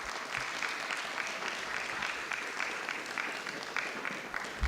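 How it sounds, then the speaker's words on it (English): Audience at a school district board meeting clapping steadily, a sustained round of applause from a moderate-sized indoor crowd with no talk over it. "we can go ahead and give them a round of applause."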